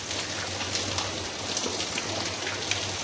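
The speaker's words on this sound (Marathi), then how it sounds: "आज सकाळपासून मुसळधार पाऊस, म्हणजे असा पाऊस लागतोय." Heavy monsoon rain pouring steadily in a village, dense continuous patter of drops on surfaces with a low hum underneath.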